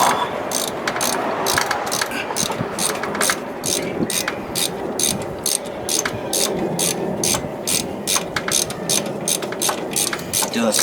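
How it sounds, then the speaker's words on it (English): A ratchet on a breaker bar with a socket works the wheel bearing nut on a 1998 Ford Ranger 4x4, clicking in a steady, rapid, close run of repeated pawl ticks throughout. "I may have to get my breaker bar. Let's see if I can get the nut on there."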